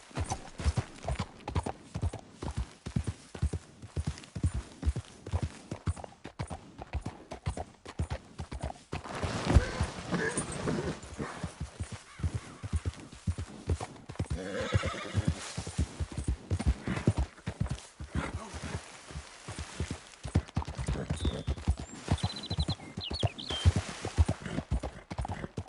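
Rapid, steady hoofbeats of a horse galloping in Red Dead Redemption 2 run through the whole stretch, with a brief whinny and snort partway through and occasional faint game ambience beneath.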